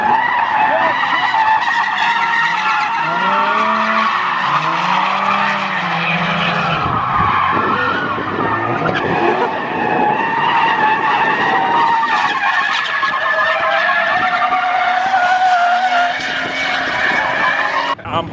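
Cars drifting at the Lock City Drift event, with continuous loud tire squeal and skidding over roaring race engines, steady and close for the whole stretch, with a voice talking underneath.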